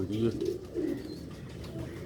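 Old-breed Sialkoti pigeons cooing close by in soft repeated throaty bursts, with a voice speaking over them.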